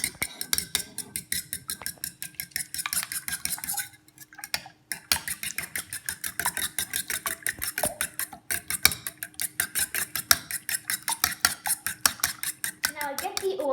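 Five eggs being whisked in a container for a frittata with peas and bacon, a fast, steady clicking of utensil against the bowl running nearly throughout, with a brief pause partway.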